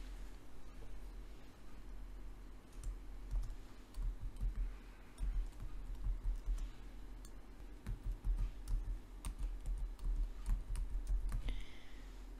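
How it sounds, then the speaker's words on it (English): Text is typed on a computer keyboard at a steady pace, with soft, close key clicks over a constant low hum. "And I'll type my text."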